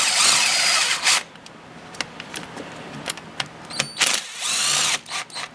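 Cordless battery drill spins bolts out of the carburetor boots on a Ski-Doo MXZ X 440 snowmobile, a whirring burst at first followed by short ratcheting spurts and clicks, close up with no talk.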